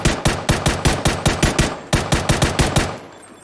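Rapid automatic gunfire from the PUBG video game, about fourteen sharp, evenly spaced shots in a steady burst that tails off at the end, loud and close with no talking.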